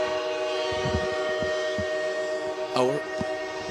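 A train horn sounds once near the end, a rising blare over steady rolling rumble, broadcast in an ad for the Boone Hall Fright Knights haunted train ride, with a brief voice speaking.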